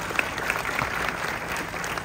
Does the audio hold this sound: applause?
yes